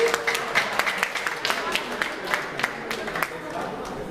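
Crowd clapping for a contestant at a New Year's celebration on Corfu, a brisk scattered patter of many hands, fairly near, with a voice over it and chatter behind.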